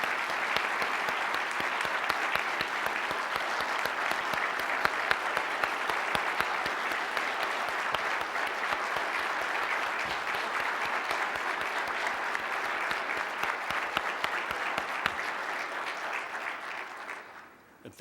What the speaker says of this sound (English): please give a round of applause for Nikki Likely and Christine Devlin